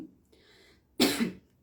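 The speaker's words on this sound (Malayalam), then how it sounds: "ചുമ എടുക്കുന്നുണ്ട്. എന്താ ചുമ പിടിച്ചു?" A single sharp cough close to the microphone, after a soft murmur and a short pause, during an informal live stream.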